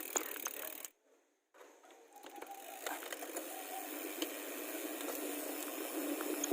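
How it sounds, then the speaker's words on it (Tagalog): Speedone Soldier bicycle hubs tick out a fast ratchet-pawl clicking as the wheel freewheels, close and fairly faint. A brief silence interrupts early on, then the clicking continues amid light background noise. "Testing natin yung hubs."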